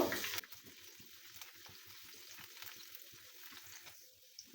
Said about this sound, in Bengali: আমি এখন এটাকে একটু গোল্ডেন করে ভেজে নিব।